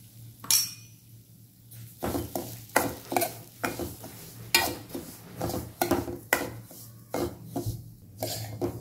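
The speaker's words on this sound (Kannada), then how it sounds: "1 ಸ್ಪೂನ್ ಎಣ್ಣೆ ಹಾಕಿ ರವೆ ಹಾಕಿ" Semolina (rava) roasting with a spoonful of oil in a pan, a spatula scraping and stirring in a steady rhythm of about a dozen rasping strokes, close and clear with no talking.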